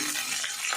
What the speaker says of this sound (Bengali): রসুন দেখুন ভাজা ভাজা হয়ে গেছে। এবার আমি কাঁচা লঙ্কা চেরা দিয়ে দেবো।